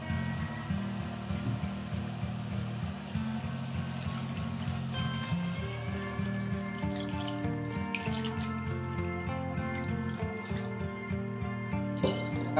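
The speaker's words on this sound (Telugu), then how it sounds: "ఇప్పుడు మనం వాటర్ వేసుకుందాం." Water pouring into a pan of crab curry, a steady close gush and trickle over a constant low hum, without clear sizzling.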